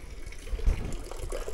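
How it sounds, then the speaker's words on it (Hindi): Tap water running steadily, a continuous close gushing splash with no talk over it. "पानी चालू हो गए"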